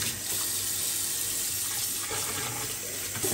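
Water runs steadily from a tap into a cooking pot, a continuous hissing splash throughout with no voices.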